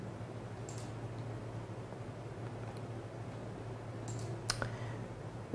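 A handful of faint, sharp computer mouse clicks come at irregular intervals over a low steady hum, with a small cluster near the end.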